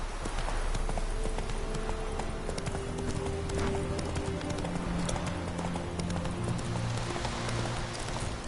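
Horse hooves clip-clop in a steady rhythm in The Witcher 3 on PlayStation 4, close and continuous over the game's ambient sound, with a brief whinny and a faint voice.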